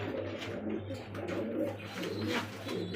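An Indian Bombay pigeon cock coos close by, a run of deep, rhythmic rolling coos repeating steadily with soft background noise.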